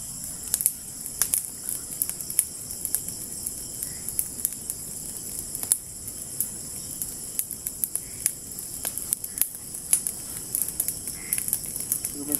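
A strong fire burns steadily, with crackles and pops scattered over a constant broad hiss for the whole stretch.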